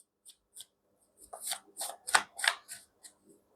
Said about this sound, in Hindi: एंड मैं कार्ड्स भी तुम्हारे सामने निकाल रही हूँ।